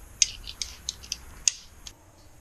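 A torque wrench ratchets in a few quick, sharp clicks, then pauses before another short run of clicks, close and crisp in a quiet workshop, as bolts are tightened on a 2009 Kawasaki ZX-10R engine case cover.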